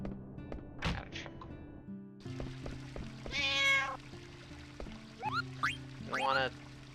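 A cat meows in the Final Fantasy 9 video game, several short rising cries, with game tones and plinks around them.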